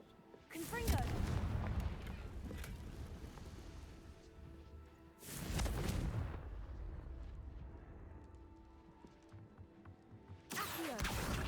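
In the Hogwarts Legacy video game, Confringo spells blast three times as sharp explosive booms at roughly five-second intervals, each followed by a rumbling, crackling decay under faint background game sounds.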